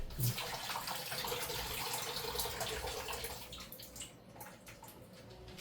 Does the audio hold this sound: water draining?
yes